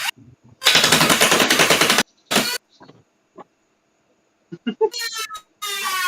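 In the video game Endwar, a gun fires full auto in a loud, rapid burst of about a second and a half. A shorter burst follows, then scattered mechanical clicks and clanks.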